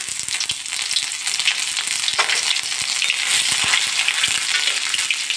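Ginger garlic paste frying in hot mustard oil with asafoetida and cumin for a potato and bottle gourd curry, giving a steady, close, loud sizzle with brief stirring scrapes and no talk.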